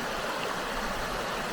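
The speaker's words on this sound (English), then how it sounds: "Technically this is a creek." A creek rushes steadily nearby, a constant broad hiss of flowing water with no voices.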